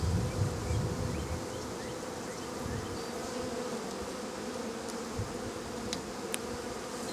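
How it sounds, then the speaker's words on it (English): A dense, steady swarm of honey bees hums continuously around a queen, a close, even drone with faint higher buzzes of individual bees flitting past. "Those bees need to get out."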